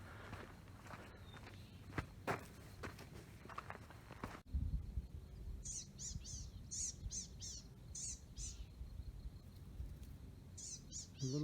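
Small blue-gray gnatcatcher giving thin, buzzy calls in a series of short repeated bursts over the second half, set against a soft rustle of footsteps on a canyon trail in June, with bright green poison oak nearby.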